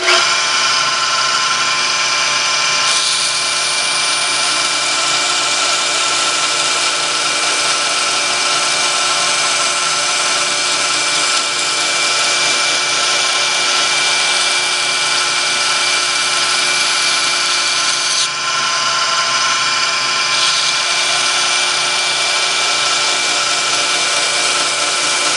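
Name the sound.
knife grinder running on low speed, knifemaking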